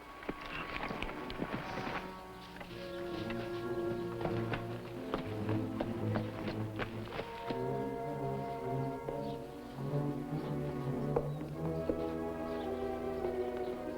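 Horse hooves clip-clop steadily at a walk, faint and somewhat distant, under a music score in a 1950s western television episode.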